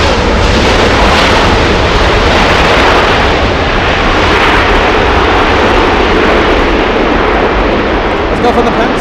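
A large passenger jet passes over near LAX, a loud, continuous broadband roar filling the whole stretch with no voices.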